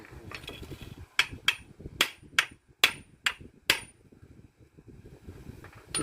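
Seven sharp hammer strikes in quick uneven succession, close and ringing, with quiet background noise between blows.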